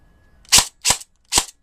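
A VFC MP5 airsoft gun fires three separate sharp, loud shots, evenly spaced over about a second, with near silence between them.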